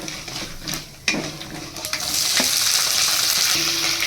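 Mustard seeds, lentils and peanuts fry in hot oil with a close, crackling sizzle that builds and holds steady, punctuated by a couple of sharp spoon knocks against the pan early on.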